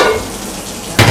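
Garlic and shallots sauté in hot oil for a chicken dish, giving a steady broadband sizzle that flares into a louder, sharper burst near the end as more goes into the pan.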